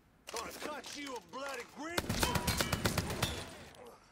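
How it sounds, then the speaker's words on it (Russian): In the video game Mafia 3, a burst of rapid gunfire crackles in quick repeated shots after a short stretch of background voice, moderately loud and sharp. "Кто в меня выстрелил?"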